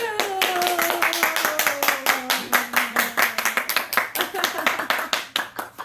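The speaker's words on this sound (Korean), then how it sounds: "박수!" Several people clap inside a fishing tackle shop, quick rhythmic hand claps close to the mic that speed up then loosen, while someone talks over the start.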